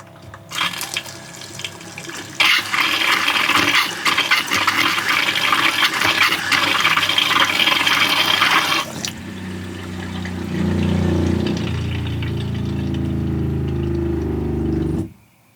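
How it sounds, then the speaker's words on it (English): An RV water pump pressurizes the water system on a rig with a Dometic 410 porcelain toilet: a loud rush of flowing water, then a steadier low humming drone, close and continuous with no talking. "Turn the water pump on. Got to pressurize."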